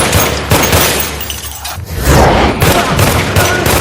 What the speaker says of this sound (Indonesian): Bosnya sendiri sampai panik, nembakin pistolnya ke segala arah.